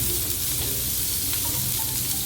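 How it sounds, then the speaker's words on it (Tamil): Onions, green chillies and curry leaves sauté in a pan for a Tamil snake gourd stir-fry, giving a steady close sizzle with faint stirring, no voices. "2 பச்சை மிளகாய், கருவேப்பிலை, வெங்காயம் நல்லா வதங்கட்டும்"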